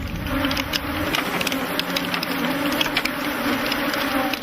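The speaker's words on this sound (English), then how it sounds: "there must be several million bees swarming around the men" Honey bees swarming in great numbers around beekeepers working hives at an African industrial apiary, a dense steady buzzing drone that fills the scene without letup.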